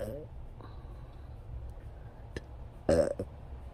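A person with a toothache on the right side burps repeatedly, short throaty belches standing out against a quiet room, the loudest one near the end.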